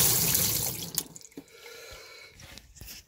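Water gushes from a tap at first, then cuts back to intermittent drips and splashes in a sink, with a few clunks.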